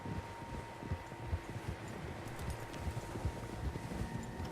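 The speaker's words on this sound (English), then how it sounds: "Horses, quite a few of them." Several horses' hooves clip-clop in a quiet, steady, uneven patter across open ground in the Western video game Red Dead Redemption 2, with faint wind in the background.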